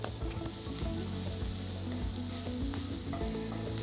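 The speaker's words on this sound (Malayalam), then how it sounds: "ഈ മഷ്റൂം കൂടി ഇട്ട് നന്നായിട്ടൊന്ന് വഴറ്റുക." Quartered button mushrooms sizzle and crackle in a pan as they are stirred for creamy pepper chicken, with a soft, continuous frying hiss and frequent scraping and clicking, fairly quiet.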